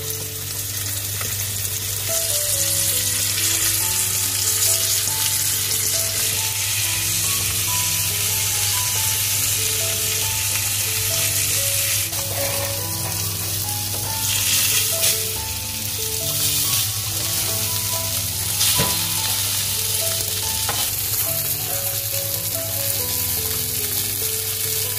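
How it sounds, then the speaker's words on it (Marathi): Masala-coated pomfret fries in a pan with a continuous dense sizzle under a steady tonal backdrop of music, occasional brief surges in the crackle throughout. "मस्तपैकी अशा प्रकारे पॅनवर तुम्हाला फ्राय करायचं आहे"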